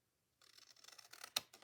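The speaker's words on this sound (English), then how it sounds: "I'm not going to cut them with the cutter." Scissors cut through cardstock craft tags after a brief silence: a quick run of close, papery snips builds to one sharp, loud cut near the end, then a final softer snip.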